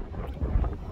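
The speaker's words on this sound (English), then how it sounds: "A bit windy, but it's alright, it's not raining" Gusty wind buffets the microphone with a low, rumbling roar that swells and dips throughout, loud and close, with no talking.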